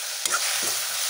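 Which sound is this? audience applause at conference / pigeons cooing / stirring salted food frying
stirring salted food frying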